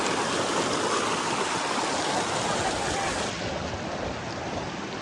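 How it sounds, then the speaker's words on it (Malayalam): Loud, continuous rush of a clear stream tumbling over a small waterfall in Vagamon, Idukki, steady and close throughout, easing slightly toward the end. "നല്ല വെള്ളച്ചാട്ടമൊക്കെ ഉള്ള അരുവി"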